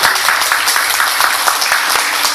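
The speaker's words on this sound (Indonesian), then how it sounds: "Tepuk tangan buat mereka semua." Audience applause after people lift something heavy on a count, a dense, steady wash of clapping from many hands that holds loud and even for the whole stretch.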